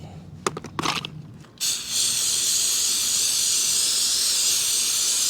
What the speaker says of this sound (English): let's get the carb cleaner out and just blast it